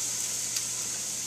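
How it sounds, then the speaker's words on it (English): Food sizzles in a pan with a steady, faint, hissing crackle running throughout, with no voices. "listen to that sizzle."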